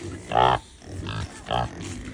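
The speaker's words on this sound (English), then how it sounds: "Hi, pigs. Hey, pigs." Pigs grunting on a muddy farm: two or three loud, close grunts in short bursts, with quieter snuffling between them.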